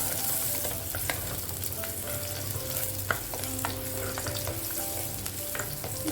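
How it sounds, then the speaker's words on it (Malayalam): Chopped small onions hit hot coconut oil in a Kerala home kitchen, giving a steady close sizzle with crackling pops and light stirring throughout, no voices. "വെളിച്ചെണ്ണ നന്നായിട്ട് ചൂടായിട്ടുണ്ട്. ഈ സമയത്ത് നമുക്കൊരു 5 ചെറിയ ഉള്ളി അരിഞ്ഞിട്ട് കൊടുക്കാം."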